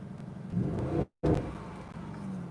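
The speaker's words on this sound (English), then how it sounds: "Okay, now I'm gonna rev it up." A 2021 Audi RS Q8 SUV engine rumbles steadily with rising revs, cut by a brief dropout midway before the motor noise resumes at the same level.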